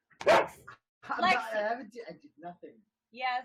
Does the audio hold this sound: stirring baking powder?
no